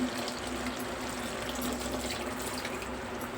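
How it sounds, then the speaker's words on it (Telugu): Water pouring steadily into a pot of cooked chicken for biryani, a continuous splashing rush with no voices. "మగ్గిన తర్వాత అందులో వాటర్ వేసుకోవాలి"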